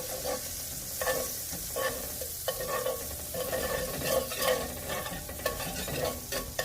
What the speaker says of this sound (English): I'm going to start with 4 tablespoons of unsalted butter, and I'm going to just melt that down into the pan.